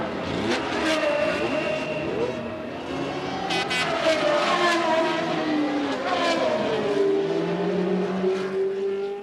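Race cars at speed during a 1981 practice session in Las Vegas, with a continuous loud engine roar, rising and falling revs as cars pass, and a brief squeal of tires.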